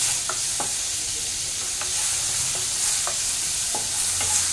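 Shrimp fry in a pan with a loud, steady hiss of hot oil, while a spatula stirs them and scrapes the pan in several sharp, evenly spaced knocks.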